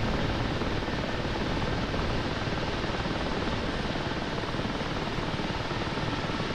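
Helicopter hovering low while taxiing over sand in the Digital Combat Simulator game, a loud, continuous rotor and turbine roar holding steady with no talk.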